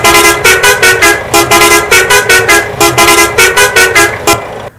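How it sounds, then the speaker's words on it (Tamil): A bus horn in Euro Truck Simulator 2 honks in a rapid series of loud, rhythmic short blasts, about a dozen toots in quick succession, close and alone without talk. "அதே மாதிரி ஏஆர்என் சவுண்டை பாருங்க நண்பர்களே"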